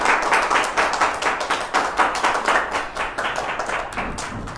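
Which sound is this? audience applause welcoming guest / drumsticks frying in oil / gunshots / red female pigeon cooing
audience applause welcoming guest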